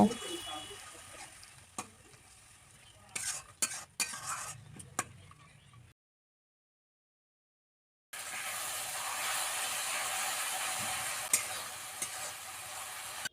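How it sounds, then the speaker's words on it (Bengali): Chicken curry masala fries and is stirred in a pan, with crackling sizzle and scattered spoon clinks and scrapes at first, a silent gap, then a louder, steady hiss of frying. A voice talks over the early part. "হালকা নাড়াচাড়া করে অল্প একটু জল দিয়ে আমরা মশলাটাকে কষিয়ে নেব"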